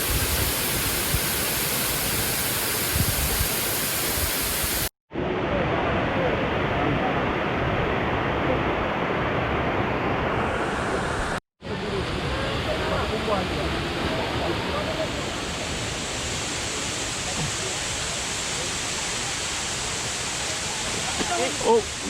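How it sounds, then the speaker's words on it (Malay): A waterfall on a jungle hiking trail roars steadily and loudly as close, broadband white-noise rushing, broken by two brief cuts, with people talking faintly over it. "Kita dah sampai air terjun yang kedua."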